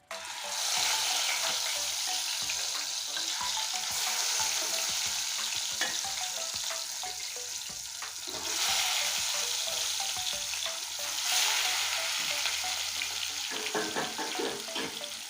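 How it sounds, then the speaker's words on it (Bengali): Fish frying in a pan of hot oil for a fish biryani, a loud, steady sizzle that runs nonstop for the whole stretch, swelling in brief bursts with the odd stir. "আজকে আমি মাছের বিরিয়ানি করব তার জন্য আমি প্রথমে এই মাছটা লাল করে ভেজে নিব"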